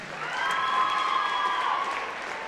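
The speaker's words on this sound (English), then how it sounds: "Let's give them one more round of applause." A gym crowd at a high school volleyball game applauds in a steady wash of clapping for a few seconds, heard from within the stands.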